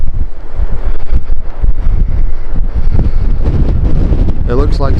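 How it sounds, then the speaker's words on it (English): Strong wind roars across the microphone on the cliff top at Filey on the Yorkshire coast, a loud continuous buffeting rumble that never lets up, with a faint voice briefly underneath near the end. "the wind's picking up"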